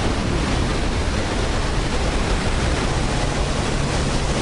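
American Falls at Niagara thunders in a dense, steady roar of falling water, loud and close, filling the air with constant broadband rush and no voices.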